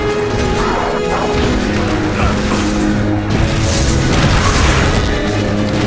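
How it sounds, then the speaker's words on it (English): Bomb explosions in The Bureau: XCOM Declassified during a chaotic firefight, heavy crashing blasts and debris smashing loudly and continuously, with a brief lull midway before another burst of booming impacts. "Throwing a bomb!"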